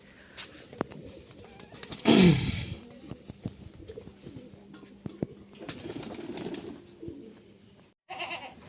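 Rajshahi Giribaz pigeons take off with a sudden loud burst of flapping wings near the start, followed by quieter wing beats and faint cooing against outdoor background noise.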